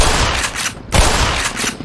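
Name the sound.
gunfire in the Black Mesa video game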